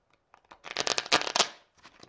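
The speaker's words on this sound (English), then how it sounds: "Another common method that you'll find is what's referred to as a rifle shuffle, where basically you just take two halves here" A sleeved Magic: The Gathering deck is riffle shuffled by hand, with a few soft taps and then a quick run of rapid flicking clicks as the two halves interleave, close and alone.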